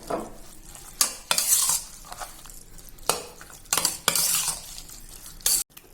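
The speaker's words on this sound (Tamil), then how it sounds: "நான் தயிர் சேர்த்துக்கிறேன்." Curd is stirred into tempered onions in a pan for a pazhaya soru tadka, with repeated spoon scrapes and clinks against the vessel over a soft sizzle, loud and close.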